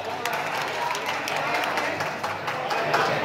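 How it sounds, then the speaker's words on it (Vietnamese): An audience claps at a school's seventh anniversary celebration in Saigon, a dense patter of hands rising and falling in a brief burst while a voice talks over it. "Cho bạn một tràng vỗ tay nữa quý vị."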